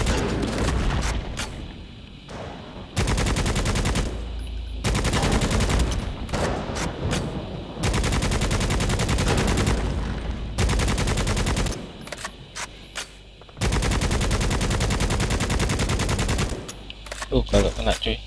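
Heavy automatic gunfire from the PC shooter Necromunda: Hired Gun, loud, sustained bursts broken by short pauses, with Indonesian commentary talking over it.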